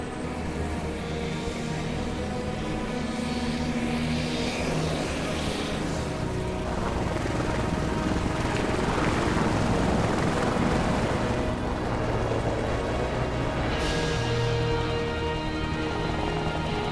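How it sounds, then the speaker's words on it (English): An air ambulance helicopter lifts off near a crash scene on the remote Coquihalla summit highway, its rotor wash a steady, broad roar mixed with wind buffeting the microphone, loud and close throughout. "Air ambulance is just taking off now."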